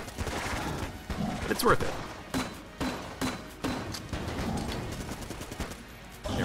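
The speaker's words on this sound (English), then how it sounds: "Probably gonna use most of the ammo in the M16 here" M16 gunfire in Enter the Gungeon, repeated rapid shots in short bursts mixed with game effects, while a person talks over it.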